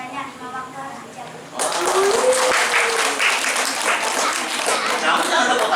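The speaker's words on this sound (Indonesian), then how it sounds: "Kamu jangan tepuk tangan aja, hafal juga" Children's applause breaks out after a group of young kids aged 4 to 9 sing a religious song, a loud, steady patter of many small hands with voices chattering over it throughout.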